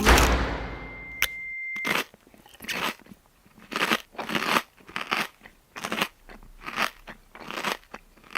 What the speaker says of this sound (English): either you sit there and like chew your food for another 30 seconds in awkward silence